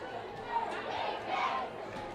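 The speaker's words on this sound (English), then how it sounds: "the Indians have some crowd noise here" A home football crowd of Indians fans chants defense at a 2019 high school game between Towns County and Hayesville, with a muffled distant roar that swells twice in a short stretch.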